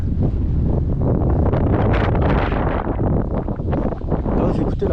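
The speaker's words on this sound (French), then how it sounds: "il y a quand même beaucoup de vent aujourd'hui" Loud, constant wind buffeting the microphone with heavy low rumble, a voice faintly mixed in beneath the gusts.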